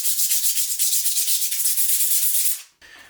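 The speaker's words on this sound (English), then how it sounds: "And then I do like to sand the edges of my bricks too" Sandpaper rubbed against the edges of wet mini concrete bricks for a fingerboard obstacle, a close, steady scratchy rasp in quick repeated strokes that runs for most of the clip, then cuts off abruptly.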